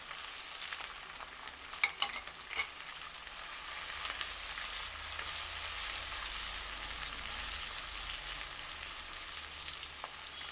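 Cut capsicum and onion pieces fry in oil with cumin, making a quiet continuous sizzle with occasional light clinks of stirring.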